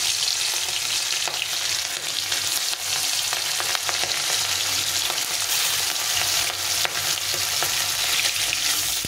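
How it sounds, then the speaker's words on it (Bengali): Small fish frying lightly in a pan give off a constant dense sizzle and crackle at moderate level, with faint occasional ticks and no voices. "তো মাছগুলো একটু হালকা করে ভেজে নেব।"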